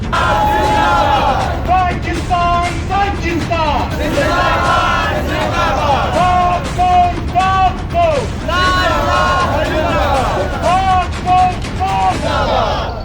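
Street rally crowd in Badin chanting slogans in support of former president Pervez Musharraf and against a court verdict, loud massed voices with repeated shouted calls and responses, continuous throughout.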